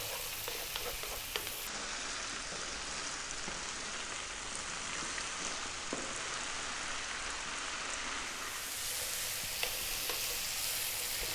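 Tomato paste fries and is stirred in a pan for a shakshouka, giving a steady close sizzle that sounds like light rain, with faint scraping strokes now and then.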